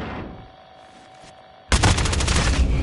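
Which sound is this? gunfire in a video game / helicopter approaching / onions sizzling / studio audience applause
gunfire in a video game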